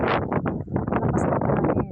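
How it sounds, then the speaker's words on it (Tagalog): Strong wind sweeps across an outdoor flower garden, buffeting the microphone with a loud, continuous roar that surges and dips in uneven gusts throughout. "Ang lakas po ng hangin."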